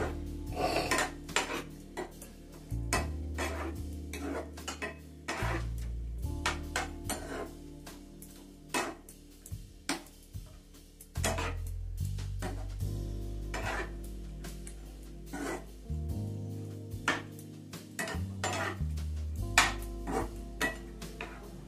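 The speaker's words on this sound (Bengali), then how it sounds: "দেখুন, আমি মাংসটাকে একটুখানি নেড়ে নিচ্ছি।" Chicken stirred in a pan over a high flame with little oil and few spices, frequent clanking and scraping of a metal utensil against the pan in uneven bursts over a low background hum.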